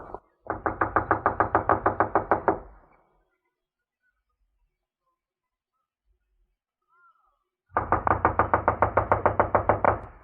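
Two bursts of rapid, loud knocking on the door of an empty, run-down house, each a quick run of a dozen or so raps, separated by several seconds of silence.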